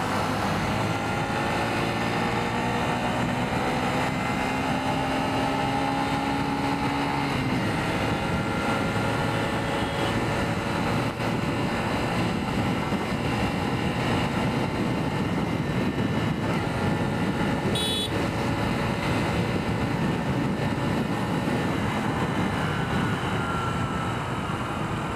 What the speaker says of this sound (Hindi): चलो खाली रोड है, अभी इसको भगाते वाइब्रेशन टेस्ट भी हो जाएगा।